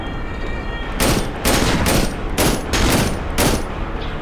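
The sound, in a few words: shotgun fire in the video game Cry of Fear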